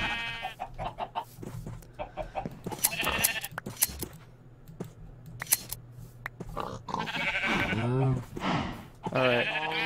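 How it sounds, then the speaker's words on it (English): Sheep in Minecraft bleat repeatedly in short wavering calls, close and loud, spread across the stretch with brief gaps and heard on their own. "Grab the sheep, though."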